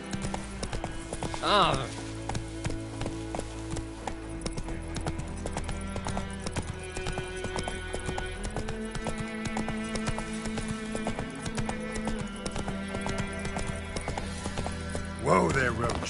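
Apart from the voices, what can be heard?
horse Roach galloping, from video game The Witcher Wild Hunt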